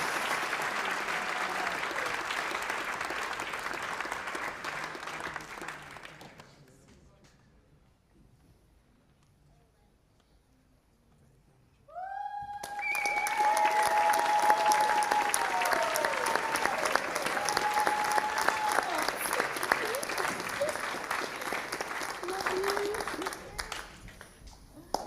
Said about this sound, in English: We thought she deserved a round of applause.